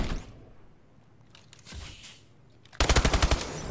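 A rapid burst of automatic gunfire in a first-person shooter gunfight, sharp evenly spaced shots crackling near and loud at the end after quieter scattered sounds.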